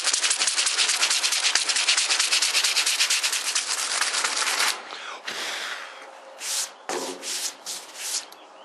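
Truck bed rails scuffed with an abrasive pad, giving a loud, continuous, close rasping scrub for several seconds, then a few shorter, softer rubbing strokes with pauses between.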